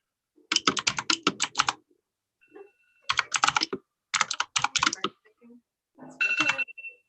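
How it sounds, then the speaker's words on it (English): Fast typing on a computer keyboard, dense bursts of sharp rapid clacking separated by short pauses, loud and close, with a faint tone humming between bursts. "Somebody's typing like crazy."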